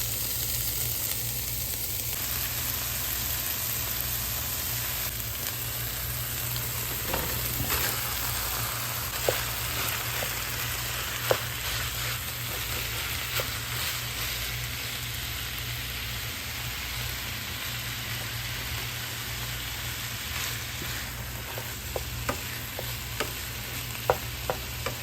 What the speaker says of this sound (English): I'm going to add a bit of oil to it, not much because I'll be adding my onion, my green pepper